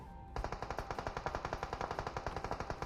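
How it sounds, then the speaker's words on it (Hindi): Distant automatic gunfire rattles in steady rapid bursts in PUBG Mobile, sustained and rhythmic after a brief quiet start, with no talking. "जो फायरिंग का आवाज आता है वो थोड़ा दूर से आता है।"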